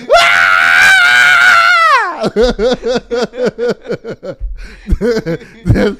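A voice imitates grandchildren screaming: a long, loud, shrill wail for about two seconds, then a string of choppy, yelping shrieks and laugh-like bursts, with no other sound behind it.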